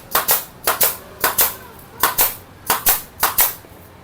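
An air-powered pressure gun fires in sharp, loud pops, mostly in quick pairs, several pairs repeating at a steady rhythm with no talking over them.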